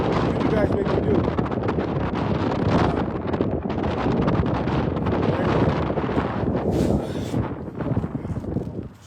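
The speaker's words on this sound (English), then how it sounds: "Oh my God, this wind." Heavy wind buffets the microphone while cycling, a loud continuous rumbling roar that fills the whole stretch and masks most other sound.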